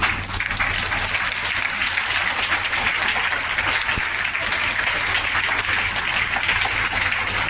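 Crowd applause at a religious gathering at a school in Nawada, a dense, even roar of clapping for several seconds over a low electrical hum.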